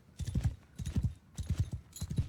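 Horse hooves clip-clop in a steady trotting rhythm, close and distinct, as a mounted rider travels through Mount & Blade II Bannerlord, with no talking over the repeated beats.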